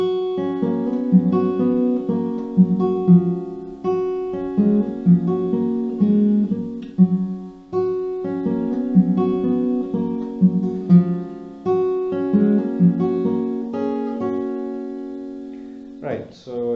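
Acoustic guitar slowly picking the intro of a song, steady arpeggiated notes over ringing strings in a repeating phrase, close and unaccompanied, ending with a short scrape or handling noise.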